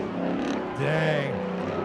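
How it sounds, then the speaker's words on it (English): A truck roars down the backstretch of a drag strip at spectator drags at Rockford Speedway, its engine note swelling and shifting, heard from a distance under a loud crowd and announcer's voice. "Look at that truck going down the backstretch."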